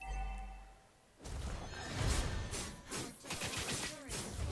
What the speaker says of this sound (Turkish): Kule patladı.